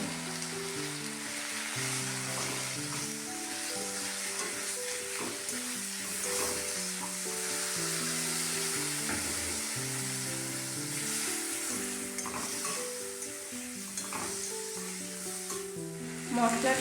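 Spice paste of onion, ginger, coriander, turmeric, cumin and chili powder sautés in oil for a tilapia and bata fish curry, a continuous crackling sizzle with stirring scrapes under steady background music throughout.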